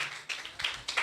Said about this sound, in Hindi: आए जोरदार तालियां एक दफा फिर से बजाएं